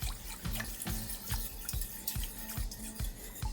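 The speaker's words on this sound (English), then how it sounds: "go ahead and give it a whisk to reincorporate the ingredients" Rapid rhythmic whisking of a sauce in a bowl, regular wet clicks and sloshes repeating about twice a second, close and steady.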